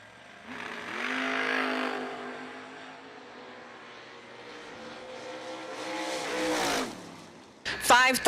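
Drag race cars, including a Camaro, launching and pulling away down the strip at an end-of-year event, engine roar swelling and fading twice, then rising again with a crackle at the end, heard from a distance.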